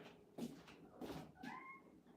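A cat meows indoors three times in quick succession, fairly faint and close, the last call rising into a drawn-out whine.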